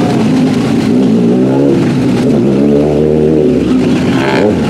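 A Kawasaki ZX6R motorcycle engine in a video game revs loudly and continuously, its pitch climbing and falling through several rev sweeps, close and dominant with no talk.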